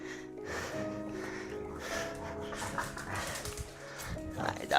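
A dog in a home workout setting makes short snorting, whimpering sounds close by, mixed into a busy, steady background of music and room noise.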